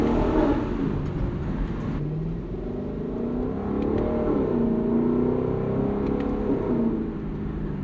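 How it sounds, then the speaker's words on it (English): A 2024 Lexus LC 500 convertible's V8 engine revs in manual Sport Plus mode around town, a steady loud low rumble rising and falling across the clip with echo bouncing off nearby buildings. "we're going to bump this into manual and Sport Plus because I want to try and make this V8 sing just a little bit"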